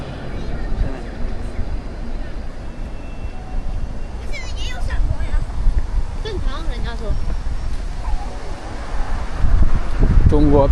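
A strong gale with rain blows along a street in Suzhou under a dust-yellow sky, a loud, constant roar of wind buffeting the microphone, with a voice speaking over it.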